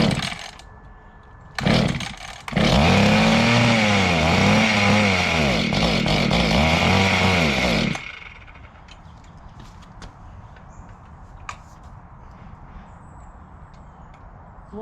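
Small Mantis garden tiller engine from an estate sale, pull-started and running loud with a wavering, revving two-stroke drone for about five seconds before cutting out, leaving quiet outdoor background.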